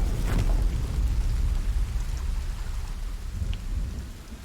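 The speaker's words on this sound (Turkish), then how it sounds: "Yağmur yağıyor bir yandan." Steady rain falls with a deep rumble of thunder in the video game Sons of the Forest, the thunder strongest at the start and fading into continuous rainfall, with no talking.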